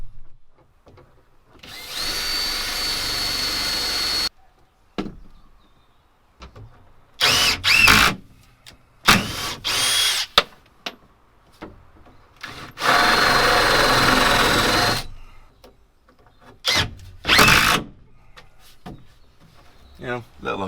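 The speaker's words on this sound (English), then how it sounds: "So I've got the combi out using the spade" A combi drill fitted with a spade bit bores recesses into wood inside a van. It sounds in loud bursts of whirring, some long and some short, with quiet gaps between them.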